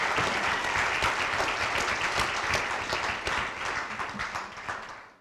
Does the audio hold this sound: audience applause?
yes